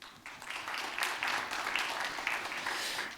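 A seated audience at a literary award ceremony applauds, producing steady moderate clapping that swells and holds for about three seconds.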